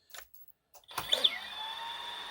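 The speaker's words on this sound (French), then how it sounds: "pour le démarrage du moteur, on va faire très très attention" A Eurocopter EC135 Yu Xiang RC helicopter motor spins up after a few faint clicks, rising quickly into a steady high electric whine with tonal ringing that holds on alone and close.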